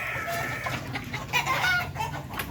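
Newly hatched chicks and ducklings peep and chirp continuously at close range, a busy overlapping chorus of small high calls with occasional louder clucking-like notes.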